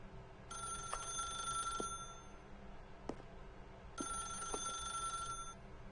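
A telephone rings in The Stanley Parable video game, two long electronic bursts of ringing separated by a pause, steady and moderately quiet over faint room hum.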